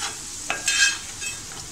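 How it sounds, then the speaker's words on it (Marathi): Masala sautéing in oil while being stirred in a pan, a short stretch of soft sizzling with a couple of scraping strokes from a spoon. "थोडं तेल सुटेपर्यंत आपण त्याला थोडं परतूया।"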